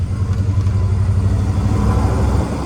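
Steady, loud idle of a vintage Ford truck engine with a rebuilt carburetor, bigger jets and a 2.5-inch exhaust, rumbling evenly up close with no voices.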